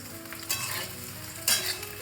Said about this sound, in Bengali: এই বেগুনটাকে ছোট ছোট করে কেটে ভেজে নিয়েছি